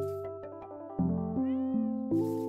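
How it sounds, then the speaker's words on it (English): A cat meows repeatedly in a cozy video game, several short, close, clear mews in quick succession, with no talking over them. "I already knew it's a cat"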